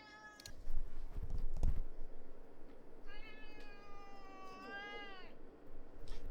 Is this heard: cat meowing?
yes